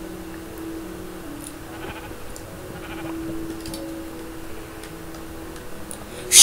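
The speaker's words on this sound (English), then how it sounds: "Sheep!" A sheep bleats in Minecraft, a few short game-style bleats heard faintly over a quiet underground ambience, with a soft ticking sound running alongside.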